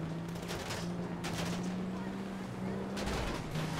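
Gunfire crackles in a GTA 5 Online heist, with bursts of rapid shots over a steady engine drone, fairly faint and mixed with the game's background noise.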